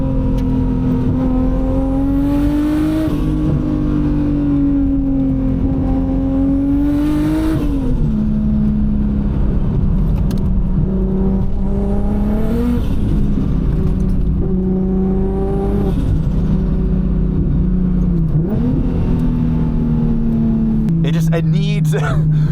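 A Nissan R32 GTR engine pulls through repeated rising accelerations and gear shifts while driving, a steady loud drone heard from inside the car.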